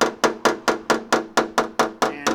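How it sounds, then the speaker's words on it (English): Hammer blows knock a dent out of the metal body of a 2018 VW Tiguan during paintless dent repair, about ten sharp, evenly spaced strikes landing close and loud with no talking. "So I'm just gonna keep on hitting this brow down"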